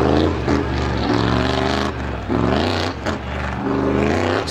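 A 350 Super race car comes out of a corner at Star Speedway during time trials, its engine roaring loud and close with rising and falling revs and brief dips as it shifts.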